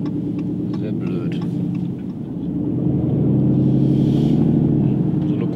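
A Dodge Hellcat widebody driving on a test drive, heard from inside as a loud deep engine rumble that swells as it accelerates, with people talking over it.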